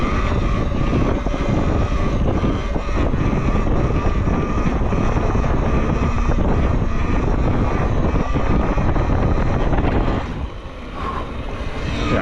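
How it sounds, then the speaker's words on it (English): A Talaria Sting R electric dirt bike climbs a hill at night, steady loud rushing whine and heavy wind buffeting for about ten seconds, then briefly drops, no talk. "We'll hit some wheelies up the hill, and then I think we're gonna call it a night."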